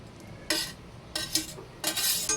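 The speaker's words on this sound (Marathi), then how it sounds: "मिक्स करून घ्यायचं आता आपल्याला ती पण आणि थोडंसं आता शिजून द्यायचं या ग्रेव्हीतच ते मटर पनीर" A spoon stirs matar paneer gravy in a pan, making three short scraping, sloshing strokes close by with brief quiet gaps between them.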